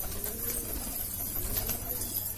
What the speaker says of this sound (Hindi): खोल दिया है बाहर पूरे कबूतर।